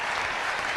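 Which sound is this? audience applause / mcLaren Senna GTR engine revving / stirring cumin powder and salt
audience applause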